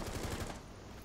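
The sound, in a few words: gunfire from a video game (Rainbow Six Siege)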